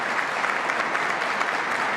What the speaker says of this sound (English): So let's give another round of applause to our host here today.